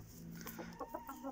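An improved-breed rooster and hen cluck softly close by, a few short clucks in quick succession, faint and with no other sound.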